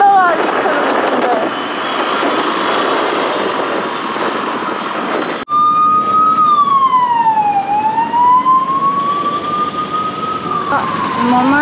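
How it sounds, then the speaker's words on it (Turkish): An ambulance siren wails through busy city traffic in India, first a steady blaring tone, then a loud sweeping wail rising and falling, close and dominant over road noise and faint voices. "Ambulans arka taraftan geldiği anda böyle"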